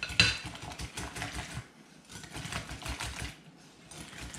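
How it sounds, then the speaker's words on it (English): A whisk beats milk, flour and eggs into German pancake batter, a quick rhythmic clatter against the bowl, close and steady with brief pauses. "We're gonna stir that all together with a whisk. Whisk it up real good."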